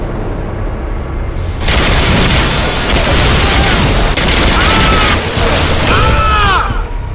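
Intense arcade shooter gunfire and explosive booms from the Bodycount video game, a loud dense barrage that bursts in after a quieter opening and keeps going, with whooshing effects near the end.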